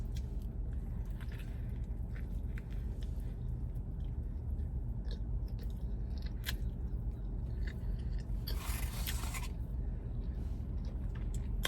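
Close, fairly quiet chewing of a Wendy's Baconator bacon burger, with soft squishy bites and occasional crunchy scrapes over a low, steady background hum.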